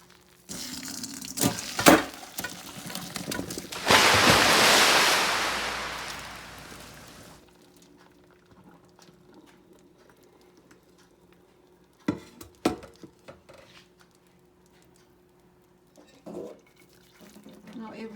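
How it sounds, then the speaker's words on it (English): Water pours out of a pot of cooked perogies as it is drained, a loud rushing splash lasting a few seconds, followed by faint clanks and quiet handling sounds. "Water is draining good now."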